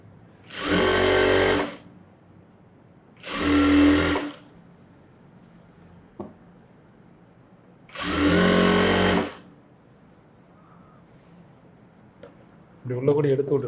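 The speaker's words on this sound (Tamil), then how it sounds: "ஆமாம் இந்த அரேஞ்சு அப்படியே தையல் போடுறோம்" Sewing machine stitching a gathering pant, three separate bursts of rapid whirring motor run, each about two seconds, close and loud with quiet pauses and small handling knocks between.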